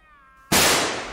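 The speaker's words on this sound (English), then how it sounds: "I just got jump scared by the fucking gunshot bit noise" A single sharp gunshot in Escape From Tarkov, a sudden loud crack that rings out and decays, preceded by a brief quiet tonal sound.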